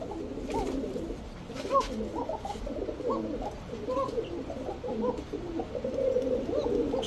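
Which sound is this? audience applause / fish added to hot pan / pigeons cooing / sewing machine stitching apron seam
pigeons cooing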